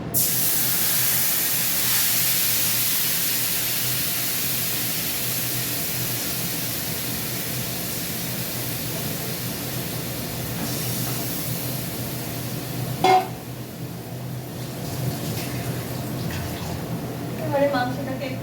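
Marinated chicken goes into a hot pan with a loud, close burst of hissing sizzle that slowly settles into a steady, softer frying hiss, with a couple of light knocks near the end.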